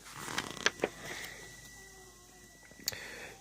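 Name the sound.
toy store door being opened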